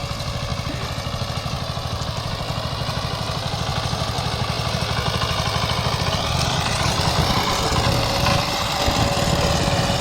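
A tractor engine runs at a steady throb while a field is being ploughed in a Konkan village. The close, continuous mechanical drone holds evenly for the whole stretch, with no talking.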